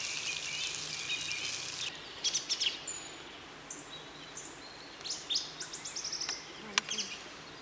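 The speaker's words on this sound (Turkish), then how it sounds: "Kuş sesleri." Birds singing outdoors on a spring walk in the countryside near Armutlu, Yalova; scattered high chirps and short trills come in bursts over a steady background hiss, fairly faint and distant.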